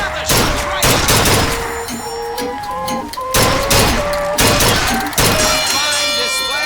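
Rapid gunshots from a firearm in BioShock Infinite, loud sharp reports fired in quick repeated bursts with shattering impacts, a steady background tone and music beneath, no talk.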